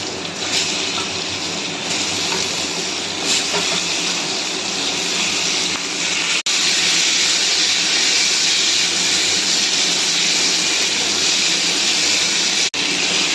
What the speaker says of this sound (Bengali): ঝিঙেটা একটু ভাজা ভাজা হয়ে গেছে